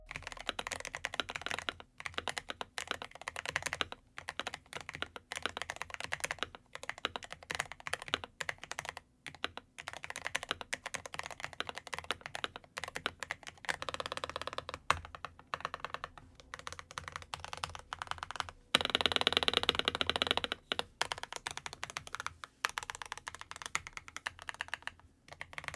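Someone types on an 8BitDo Mecha Break mechanical keyboard, producing a close, crisp clatter of rapid keystrokes in uneven bursts. Brief pauses break the typing, and a denser flurry comes near the end. No voices.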